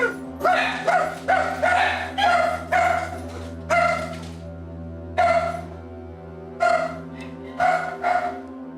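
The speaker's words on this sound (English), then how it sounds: "Excuse my dogs." Dogs at home bark in repeated loud close bursts, yips mixed with whimpering whines, coming in uneven clusters with short pauses between them.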